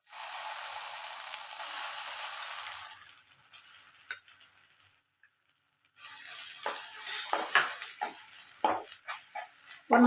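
A mustard seed, dal and curry leaf tempering is stirred into mint chutney: a steady frying hiss at first, then soft scraping and clinking of a spoon against the bowl in irregular strokes, close and moderately loud.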